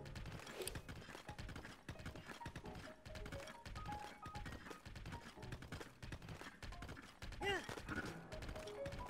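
Horse galloping in Zelda Breath of the Wild, a steady rapid hoof rhythm mixed with game clatter and scattered impacts, moderately quiet and continuous.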